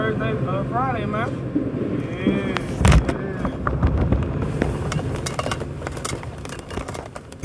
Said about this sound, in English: That is the sound of my phone going through an X-ray machine